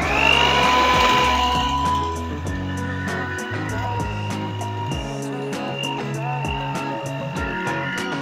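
An electric hand mixer runs at low speed, beating cake batter made with tapioca flour, milk powder and baking powder; a steady, continuous motor whir with a rhythmic clicking beat of the beaters, loud and close throughout.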